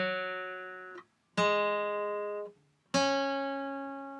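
Clean electric guitar playing part of a song: three sustained, ringing chords or notes struck about every one and a half seconds, each fading slowly before the next, heard alone and fairly quiet.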